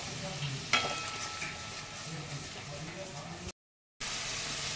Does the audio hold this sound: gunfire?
no